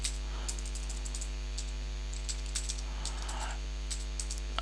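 Someone types a search on a computer keyboard, producing quick, light key clicks in short irregular bursts over a low, steady background hum; faint and close, with no talking.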